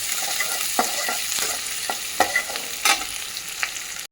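Whole cloves, star anise and cinnamon stick with small shallots sautéing in hot oil for mutton kulambu, a steady close sizzle broken by several sharp scraping stirs of a spoon against the pan, no talking.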